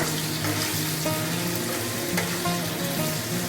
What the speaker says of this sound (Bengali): কড়াইতে যে মাছ ভাজার তেলটা ছিল তার মধ্যে আমি কিছু আলু কুচিয়ে রেখেছিলাম, সেটা ভেজে নেবো